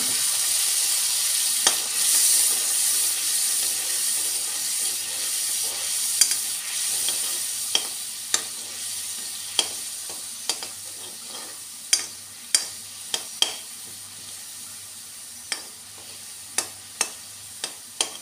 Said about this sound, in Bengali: এবার দেবো জিরে, হলুদ, লঙ্কার গুঁড়োটাকে গলিয়ে রেখেছিলাম, বাকিটা দিয়ে একটু দিয়ে দিলাম।